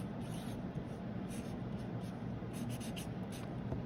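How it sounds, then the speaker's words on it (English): Felt-tip Sharpie marker writing a name across a woven paper heart craft, a steady soft scratchy squeak of the tip on paper running continuously, close and fairly quiet with no talking. "the last step is to use a Sharpie or a marker to write your name"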